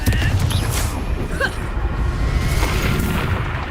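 A Confringo spell explodes in the video game Hogwarts Legacy, a loud booming burst over a dense, busy game soundscape, with a voice calling out spell names.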